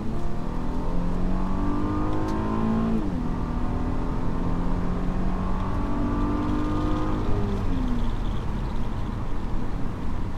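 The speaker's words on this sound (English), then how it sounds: "I'm gonna put it in sport right now, and we're gonna floor it." A 2012 Mercedes C350 Coupe pulls hard at full throttle in sport mode, its engine note climbing steadily through the gears with a brief dip at each shift, loud and continuous from inside the cabin with no talking.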